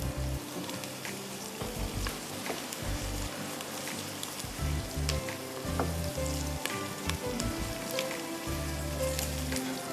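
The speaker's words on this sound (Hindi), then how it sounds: "इसमें थोड़ा टाइम लग जाएगा बिकॉज आई वांट कि अच्छी तरह प्याज ब्राउन हो जाए" Onions fry and sizzle in oil, browning for beef haleem, a dense continuous crackling hiss with soft intermittent stirring thumps, close and steady, no voices.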